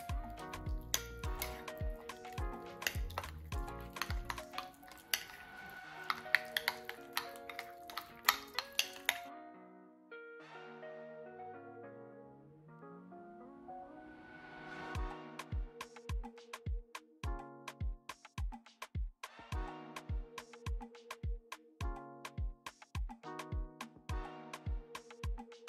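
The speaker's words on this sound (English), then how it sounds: "I'm using a handy dandy spoon to mix the" Spoon stirring lip gloss in a small container, a close series of light clicking taps and scrapes, irregular at first and then a quick steady tapping rhythm, quiet with no talk.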